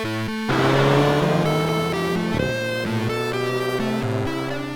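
A Volkswagen Golf GTI with the Performance package being driven, its engine loud and close as it revs through rising gear pulls, with pitch climbing and dropping at each shift and no voices.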